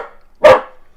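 A single loud dog bark, sharp and close, standing alone after a brief faint tonal sound.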